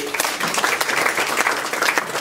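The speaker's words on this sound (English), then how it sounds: "A big round of applause to him." An audience at a Goan music evening applauds the chief guest, a dense, sustained round of many hands clapping with sharp individual claps standing out, filling the hall at an even level.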